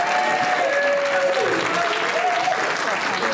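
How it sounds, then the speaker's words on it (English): Conference audience at a child protection event in Wales applauding, a steady broadband wash of clapping throughout with a faint tonal whistle or voice over it. "Give them a round of applause again, guys."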